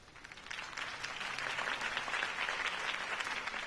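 Crowd applauding after a campaign speech in the Batman Telltale game, a steady dense clapping that holds evenly for several seconds with no voices over it.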